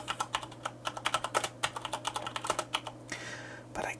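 Close, steady typing on a Corsair K70 RGB MK2 mechanical keyboard with Cherry MX Brown switches, crisp keystrokes in quick irregular bursts over a low steady hum, with no talking.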